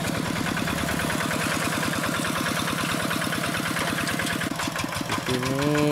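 A Quick G1000 paddy tractor with a Kubota RD85Di2S diesel engine, old and long in service, chugs in a fast, even, knocking rhythm close by, running steadily throughout.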